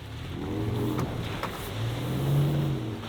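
A car pushes through a mud bog with its engine revving steadily close by, the pitch rising and falling over a few seconds of continuous driving, with no talking.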